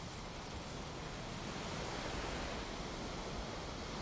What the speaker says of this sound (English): Are those waves gonna wash up on our area?